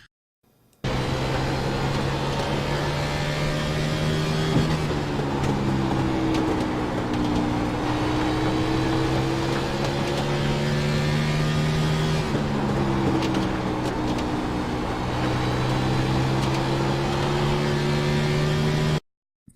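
Race car lapping Bristol Motor Speedway in the iRacing sim, a steady loud engine drone with smooth pitch swells and dips through the corners, continuous for the full lap with no talk.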